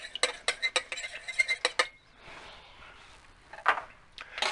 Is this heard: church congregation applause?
no